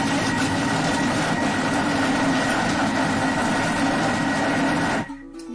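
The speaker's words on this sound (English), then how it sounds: "That's just the Thermomix doing its job." A steady, loud motorized whir of a Thermomix food processor chopping cheese, running continuously, then abruptly cutting off near the end.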